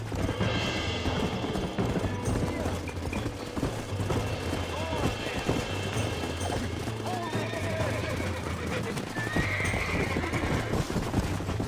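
Horses whinny and neigh amid clip-clopping hooves, with shouting voices, gunfire and busy game action filling the background throughout, from the video game Red Dead Redemption on PS4.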